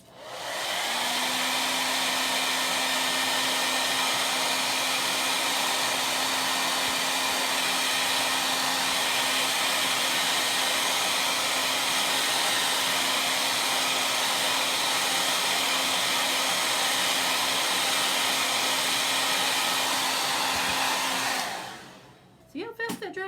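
A hair dryer blows steadily for about twenty seconds, close and loud with a constant whine, drying a chalk pumpkin transfer, then clicks off.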